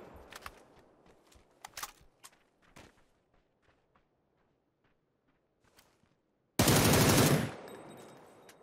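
Gunfire in the video game PUBG: scattered sharp cracks and footsteps early on, then a loud burst of rapid automatic fire lasting under a second, followed by a fading tail.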